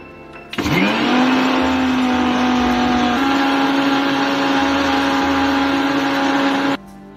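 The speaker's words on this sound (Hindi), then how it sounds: "अब हम इसे पीसेंगे। इसमें हमने आधा कप पानी डाला है, 2 चम्मच नमक डाला है, जिससे कि हमारा मिर्च लहसुन धनिया पीसने में आसानी हो।" Kitchen mixer grinder blending green chili, garlic and coriander with water and salt into a paste, a loud steady whirring drone that starts abruptly, runs about six seconds and cuts off.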